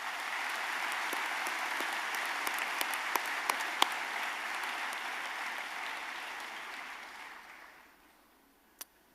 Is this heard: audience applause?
yes